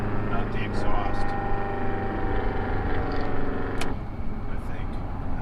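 Detroit 4-53 turbo diesel engine, fitted with a swapped Silver Series turbo with a .81 housing, runs steadily with a continuous low exhaust drone and harmonic hum, close and loud throughout.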